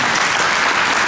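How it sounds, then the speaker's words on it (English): An audience at an institutional investment summit in India applauds, a dense, steady wash of clapping from many hands. "needs a big round of applause from all of us"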